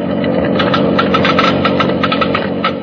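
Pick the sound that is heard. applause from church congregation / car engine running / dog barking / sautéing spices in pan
car engine running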